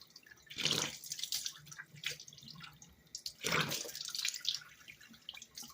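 Water runs from a tap into a sink during face washing, faint splashing and dripping that swells in two bursts with quiet gaps between, no voices.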